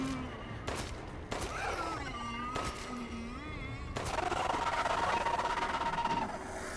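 Gunfire from the video game Resident Evil Village: a few sharp, spaced shots ring out against steady game ambience, with a voice heard between them and a denser burst of noise near the end.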